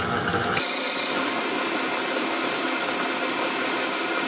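A stand mixer beats butter and sugar at raised speed, a steady motor whine with a constant high tone stepping up early on, then holding an even, continuous drone.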